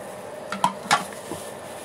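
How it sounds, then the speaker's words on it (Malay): Ginger chicken with vegetables is stirred in a pan, giving a few sharp utensil clinks and scrapes over a soft, steady background hiss. "Okay, kita gaul."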